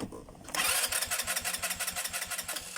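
A Rusi Royal motorcycle starts up after a brief cranking noise, then settles into a loud, close, steadily pulsing idle.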